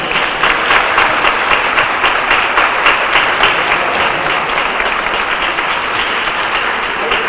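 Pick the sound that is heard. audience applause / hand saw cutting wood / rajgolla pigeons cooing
audience applause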